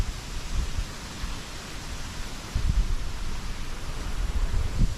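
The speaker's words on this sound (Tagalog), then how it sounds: "Lakas ng hangin guys" Steady broadband rushing of strong wind buffeting the microphone, with low gusty rumbles swelling louder in the second half. No voices.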